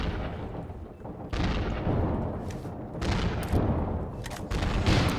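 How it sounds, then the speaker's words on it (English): Heavy booms and rattling gunfire in the sci-fi combat video game Angels Fall First, a dense, continuous barrage of loud blasts and shots with no voices over it. "what is making those explosions? There's guns on this?"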